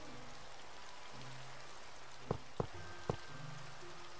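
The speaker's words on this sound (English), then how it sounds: "this rain is so annoying" Rain falls steadily in Minecraft as a constant, even hiss of close rainfall, broken by three sharp clicks of other game sounds.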